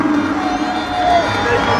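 A large crowd of Yanga football supporters cheering and applauding the players after the club reaches the group stage, a dense, loud roar of voices and whoops that holds steady throughout.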